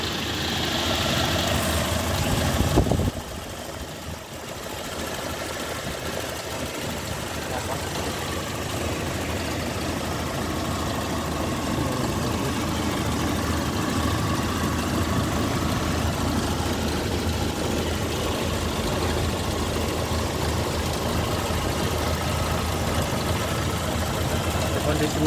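A 2000 Toyota Kijang LGX with a 1.8 EFI engine idles steadily for the whole stretch, a continuous low rumble that stays close and even, broken only by a brief dip near the start, with no speech over it.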